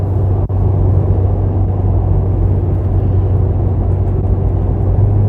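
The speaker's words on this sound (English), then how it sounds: "I have the exhaust resonance fuse removed, so it always has a little bit of a throaty sound" A Cadillac ATS-V engine hums with a low, throaty exhaust rumble, exhaust resonance fuse removed, steady and close, like cruising at constant speed from inside the vehicle.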